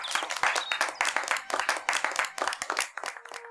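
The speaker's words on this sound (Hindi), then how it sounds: "तालियां बजाओ।" A small gathering claps hands together at the close of a meeting, a rapid rhythmic patter of individual claps, near and fairly loud, with no talk over it.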